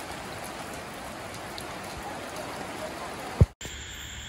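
Steady rain falls in a dense, even patter outdoors, with a brief thump near the end before the sound cuts briefly and resumes.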